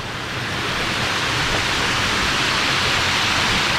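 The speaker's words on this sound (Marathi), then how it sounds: "चला आणखी आली नदी" A forest river in a wildlife sanctuary rushes steadily, a dense and loud broadband roar of flowing water with no other sounds and no speech.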